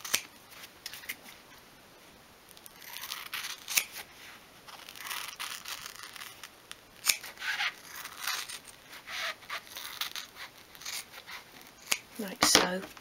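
Scissors snip repeatedly in short, crisp cuts, close and fairly quiet, with brief pauses and soft rustling between them.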